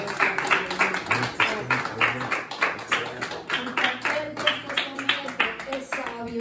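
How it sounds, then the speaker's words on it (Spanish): Church congregation clapping along in a steady rhythmic beat during a Spanish-language worship song, repeated claps over sung voices at moderate distance. "Dale aplausos a Jehová tu Dios"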